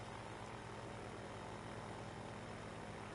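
Steady airplane engine drone from the VR flight game UltrawingsVR 2, a constant dense hum heard alone with no voices.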